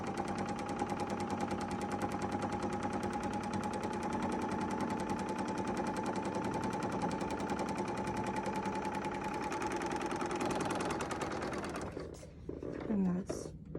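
A serger sewing machine stitches fabric edges to quilt a mug rug, giving a fast, even mechanical whirr and rattle that runs steadily for about eleven seconds. It then stops, leaving brief handling noise and a short voice.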